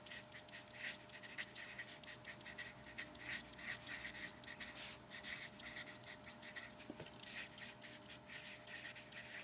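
Pen writing on paper, a close, continuous run of short scratchy strokes in an uneven rhythm over a faint steady hum.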